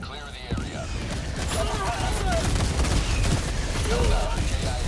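An orbital barrage strikes in the Helldivers 2 shooter game, producing a continuous loud barrage of explosions and rapid gunfire that builds and keeps going, with voices talking underneath.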